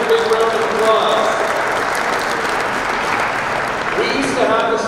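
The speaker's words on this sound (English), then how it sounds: "That deserves a big round of applause." A big round of applause from the audience at a university scholarship recognition event, broad continuous clapping filling a large hall at fairly steady loudness throughout.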